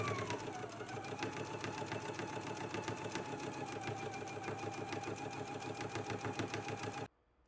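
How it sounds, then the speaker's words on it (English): A sewing machine runs in one continuous burst stitching close to the fold of a skirt hem, a rapid even mechanical patter that stops abruptly near the end. "now I'm just going to go ahead and stitch close to the fold to create the hem"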